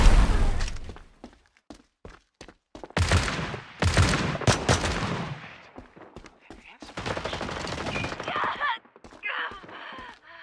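Gunfire in the shooter FragPunk crackles as sharp single shots and rapid bursts, loud and close, with fuller fusillades in the middle and near the end.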